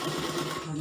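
A sewing machine hums in a brief, steady run while stitching a kali gown.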